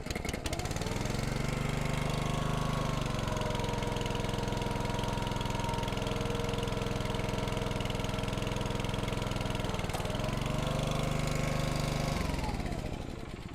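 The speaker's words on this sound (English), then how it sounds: "start the Honda engine up on this machine" A small Honda petrol engine on a Split-Fire log splitter starts and runs steadily at a loud, even idle, its pitch dipping briefly before settling again, then cutting off near the end.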